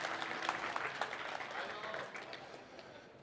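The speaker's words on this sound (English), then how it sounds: "Go on, give him a round of applause for that one." An audience at RuneFest 2016, a RuneScape fan convention, applauds in a dense patter of clapping that gradually thins out, with some talk mixed in.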